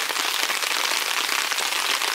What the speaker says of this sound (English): Damn it, this storm is still going